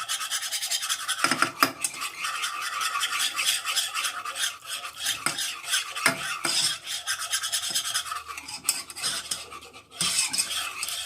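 A utensil scrapes and stirs around a pan as milk is worked into a roux, a steady raspy rubbing with occasional sharper clinks and scrapes, close and without talk.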